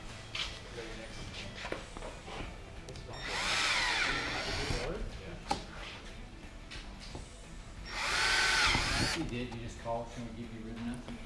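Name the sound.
power drill drilling holes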